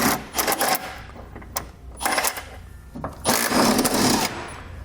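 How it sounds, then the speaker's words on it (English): Tie-down hook bolts on a vehicle being removed with a 17mm socket and ratchet during a Curt trailer hitch installation, heard as close bursts of metallic ratcheting and clanking separated by short pauses. "we can grab a 17mm socket and remove the 2 bolts"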